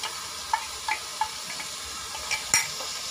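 Tomatoes with turmeric and chili powder fry in a pan for eggplant curry, a soft sizzle under a handful of light spoon taps and scrapes, ending in a sharper clink.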